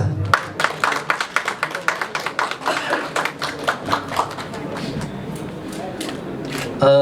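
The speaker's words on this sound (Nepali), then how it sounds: "यहाँको ताली बज्छ" Audience at a Nepali brand ambassador event clapping in a dense, rhythmic burst of handclaps that thins out toward the end, close and fairly loud.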